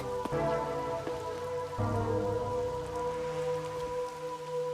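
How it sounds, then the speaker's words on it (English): Steady rain falls in the video game Rain Code, a continuous wash that stays even and fairly loud throughout, layered over sustained musical tones with no talking. "Until recently, I despised this rain."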